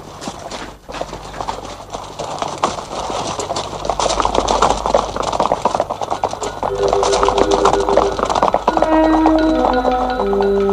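Horses' hooves clip-clop steadily and fairly loud as riders set off in an adventure drama set on a journey around the world, with music rising beneath in the later part.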